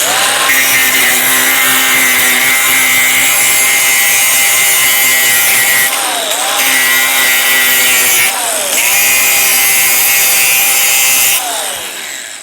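Metal is cleaned of its patina with a loud, continuous, high-pitched whining tool whose pitch dips briefly three times as it bites into the surface, then fades at the end.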